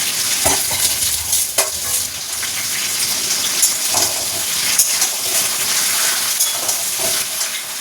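Whole cumin seeds and dried chillies tempering in hot oil, then vegetables such as ridge gourd, beans, papaya, potato and drumstick frying, giving a loud continuous sizzle with stirring scrapes throughout and no talk.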